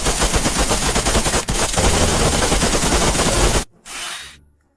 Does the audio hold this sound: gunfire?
yes